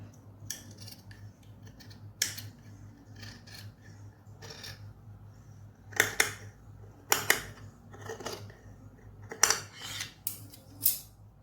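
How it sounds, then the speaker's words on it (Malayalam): Scissors snipping through churidar fabric along a marked cutting line, a series of short, crisp cuts in separate bursts over a low steady hum, fairly close and with no talking. "മാർക്ക് ചെയ്ത ഭാഗത്തൂടെ നമുക്ക് കട്ട് ചെയ്ത് മാറ്റാം."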